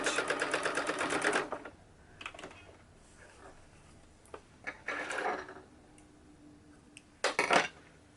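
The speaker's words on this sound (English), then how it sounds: "and then I'm going to back stitch." Sewing machine back-stitching a fabric book page holder, with a rapid rhythmic run at the start, then scattered handling clicks and two more short bursts of stitching.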